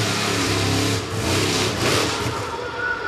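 Rockstar monster truck engine running at a show in Evansville, Indiana, a loud, close, rough rumble with rising and falling revs throughout.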